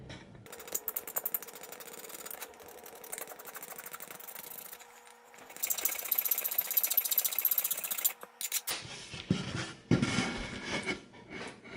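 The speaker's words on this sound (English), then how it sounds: "Go ahead and take and scrape it off at that line." Blade scraping a wood-burned line off a hardwood surface, a steady rasping texture that grows louder and coarser midway, then rougher, more broken scrapes near the end.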